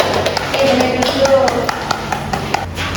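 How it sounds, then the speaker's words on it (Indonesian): A classroom rewards a student with applause: a quick run of light, sharp claps that sounds like several hands, close by and fairly loud, with faint voices underneath. "Tepuk tangan buat kamu Dulan"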